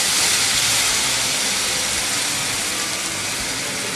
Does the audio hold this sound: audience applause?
no